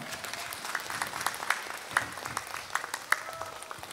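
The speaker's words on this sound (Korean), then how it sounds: "회장님께도 박수 부탁드립니다" An audience applauds at an awards ceremony for a singing contest in a large concert hall, a dense patter of many hands clapping at moderate distance, steady for a few seconds.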